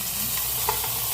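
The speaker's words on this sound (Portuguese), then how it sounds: "Tá refogando." Onions sauté in a pan at an outdoor campfire cookout with a soft, continuous sizzle and a faint scrape of stirring, close and steady.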